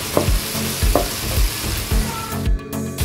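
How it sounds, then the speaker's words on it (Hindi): Ginger garlic paste fries in a pan for Punjabi kadhi, a loud, close sizzle punctuated by regular scraping stir strokes, with no one speaking. "अब इसमें अदरक लहसुन का पेस्ट शामिल करके इसको अच्छी तरह 1 से 2 मिनट के लिए भून लेते हैं।"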